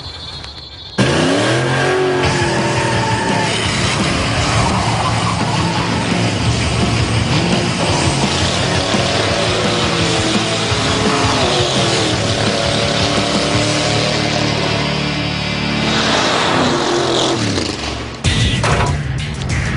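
Custom car built on Car Warriors, with headers routed through the fenders, driven hard on a test course with a slalom. The engine is loud and close, revving and accelerating continuously, with rising and falling pitch sweeps.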